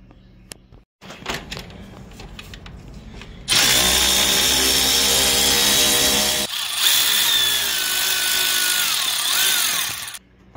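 A power tool whirs loudly, close by, while removing thermostat housing bolts on a Jeep Cherokee XJ, coming after a few light clicks and knocks, with two sustained bursts and a brief pause between.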